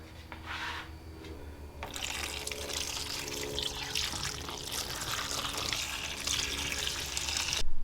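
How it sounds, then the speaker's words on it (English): Rusty tools recovered from underwater being put into CLR cleaner: liquid pours and splashes steadily and up close, with a running, trickling wash that grows a little louder toward the end, no talk. "We're going to put everything in CLR and let it sit."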